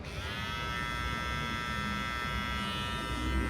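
A Matsui x Barber Josh brushless hair trimmer runs alone with a steady, close electric buzz and high whine, holding even in level for a few seconds.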